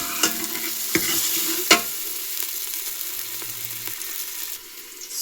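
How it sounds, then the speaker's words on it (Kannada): Tempering stirred in hot oil in a pan on a gas stove, giving a steady close sizzle with a few sharp spoon scrapes and clinks against the pan, heard alone. "ಸೊ ಗ್ಯಾಸ್ನ ಉರಿ ಕಡಿಮೆ ಮಾಡಿಕೊಂಡು ಇನ್ನೂ ಚೆನ್ನಾಗಿ ತಿರುಗಿಸ್ಬೇಕು ಇದು ಬೇಯೋವರೆಗೂ"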